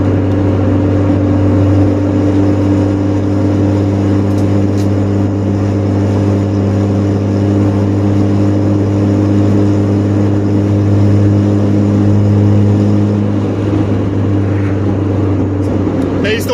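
A car engine with an airflow modification to lower engine temperatures drones steadily with a strong low hum, rising and falling slightly through acceleration pulls, loud and close throughout.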